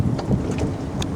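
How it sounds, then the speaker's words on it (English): Strong gusting wind buffets the microphone on the Colorado River at Needles, California, aboard a catamaran, a rough low rumble with a few brief louder gust bursts and no voices. "it's very windy here."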